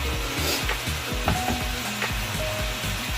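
Chicken pieces browning in a stew pan give a steady, loud sizzle, with repeated low knocks and scrapes as the pieces are turned and shifted.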